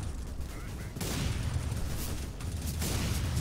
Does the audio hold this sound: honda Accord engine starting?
no